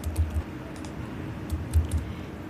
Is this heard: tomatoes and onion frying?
no